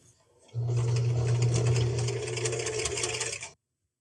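A sewing machine stitches belt loops and a waistband onto jean shorts, a close, steady motor hum with rapid needle chatter running for about three seconds before stopping abruptly.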